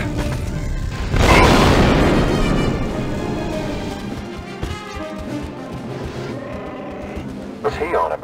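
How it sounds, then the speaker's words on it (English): A breach charge blasts a door open in Star Wars: Republic Commando, a loud booming burst that rolls into a long rumbling decay over game sound and background voices. "Breach charge set. Clear. Fire in the hole."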